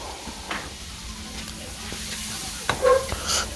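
Chicken seasoned with black pepper and salt sizzles and is stirred in a pan for chicken lomi, a steady soft frying hiss with a few louder scraping stirs near the end.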